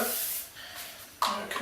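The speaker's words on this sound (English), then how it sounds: "We're going to use again our extra virgin oil, just to spray a little bit on it." Extra virgin olive oil spritzed from a spray bottle onto chicken breast on a gas stove, a soft airy hiss near and fairly quiet, with one sharper burst toward the end.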